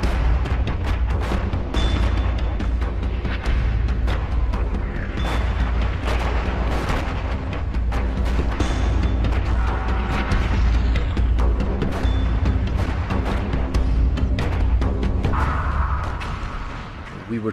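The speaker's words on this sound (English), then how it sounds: "The shells were bursting everywhere, some of them very low." Artillery shells bursting across a 1918 Western Front battlefield in WWI, dense repeated booms and blasts rolling one after another, loud and continuous with heavy low rumble throughout.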